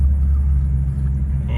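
A 2015 BMW M4 with the S55 engine idles smoothly after a restart, giving a steady, close, low rumble with an even pulse and no revving.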